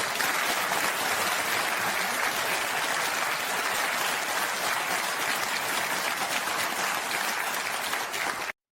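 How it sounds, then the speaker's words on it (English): Sustained audience applause from a television studio crowd in Ireland, dense steady clapping at full level throughout with no talk over it. "think back to that round of applause you just watched on Irish television"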